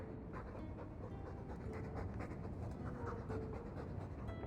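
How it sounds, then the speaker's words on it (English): A dog from the video game Dragon Age 2 pants steadily in rapid, rhythmic breaths, close and fairly quiet against a soft background hum. "All that noisy dog breath, day in, day out."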